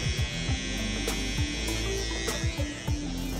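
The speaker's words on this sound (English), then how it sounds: "I'm gonna flip my clipper coming down, and I'm gonna just go ahead and let it tap or rest right there" An electric hair clipper trims a beard at a barber academy with a steady close buzz and short rhythmic sweeps as the blade passes through the hair, with no talk.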